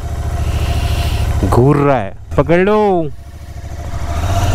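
Royal Enfield Continental GT 650 motorcycle engine idling and warming up in cold weather, a steady low throb running throughout, loud and close, with someone speaking over it in the middle.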